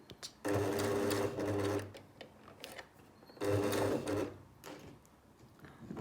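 A sewing machine tacks a lapped zip in two short, quiet runs of steady stitching, each lasting about a second and a half, separated by pauses.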